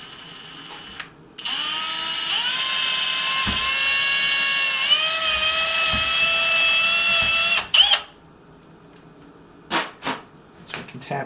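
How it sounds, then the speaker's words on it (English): A power drill whines at a steady high pitch for several seconds, drilling a hole in an airsoft rifle part, dipping slightly under load before stopping, followed by a few short clicks and taps. "so we're just going to drill that out"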